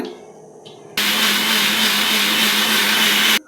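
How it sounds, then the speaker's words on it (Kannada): A mixer grinder blends soaked cashews, almonds and coriander leaves with water, starting abruptly after a second of quiet and running as a loud, steady whirring roar before cutting off. "ಸ್ವಲ್ಪ ನೀರು ಸೇರಿಸಿ ಮಿಕ್ಸಿ ಮಾಡ್ಕೊಳ್ಳೋಣ."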